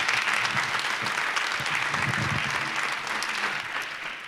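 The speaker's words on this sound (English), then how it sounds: "let's give Doug a good round of applause" An audience claps after an evening lecture by a nature author, steady dense applause from a sizeable room filling the whole stretch and tapering slightly toward the end.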